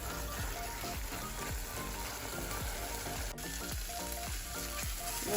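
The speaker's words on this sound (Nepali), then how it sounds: "राम्रोसँगले गुन्द्रुक भुटेर टमाटरहरू राखेपछि राम्रोसँगले पाकेर आएको छ" Gundruk, fermented mustard greens, and tomatoes fry in hot oil with a steady, dense sizzle, broken by regular scraping stirs of a spoon in the pan, close and continuous.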